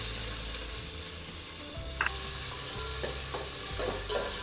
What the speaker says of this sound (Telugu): ఇప్పుడు ఆనియన్ బ్రౌనిష్ వచ్చేంత వరకు వేయించుకుందాం